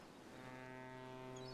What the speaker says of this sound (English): Boat noises.